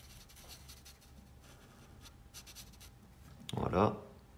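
A black marker coloring in on paper, giving soft scratchy strokes that run through the clip and swell into a louder rubbing burst near the end, with faint speech-like murmur underneath.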